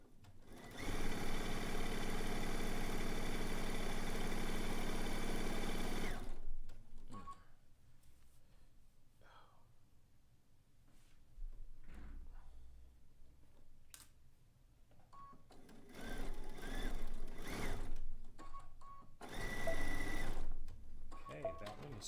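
A sewing machine stitches a zig zag quilt, running over pins, in one loud steady burst of motor hum for about six seconds, then quieter intermittent runs and clicks, with a few more short bursts of stitching later.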